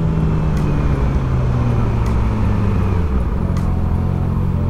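A black SUV accelerates on a busy road while turning left, its engine a steady low rumble amid continuous traffic noise, with no speech.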